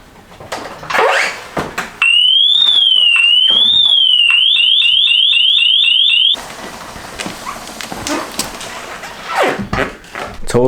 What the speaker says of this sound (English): Totally forgot that the alarm was still on the bike.